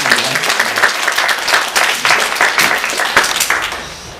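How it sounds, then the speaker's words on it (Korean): A church congregation claps together during a Sunday worship service, a dense, steady patter of many hands with rhythmic pulses swelling through, loud and close, with no talk over it. "우리 다 같이 박수로 하는 시간을 갖겠습니다"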